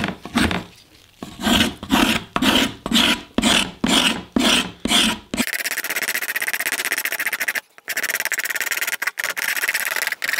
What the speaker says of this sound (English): then I use a spoke shave to remove the tool marks